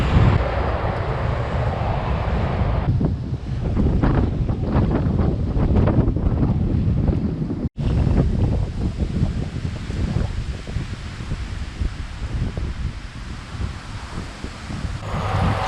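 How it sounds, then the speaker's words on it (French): Wind blows and roars into the microphone while bikepacking along a cycle path, a continuous loud rumbling gust noise that rises and falls and never stops, with no talking. "il y a un vent de dos."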